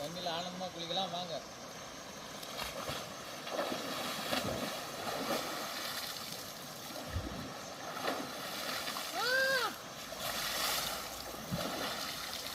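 Someone bathes in a flowing stream, and the water rushes and splashes steadily close by. A voice talks intermittently over the running water.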